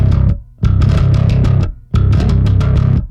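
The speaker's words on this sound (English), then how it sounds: "you've got a strike and then a gallop right after it, and then 2 8th notes, which sounds like this" Electric bass with a distorted, effected tone playing a metal galloping rhythm on the low string, chugging in two loud repeated phrases separated by brief decays, close and with no voices.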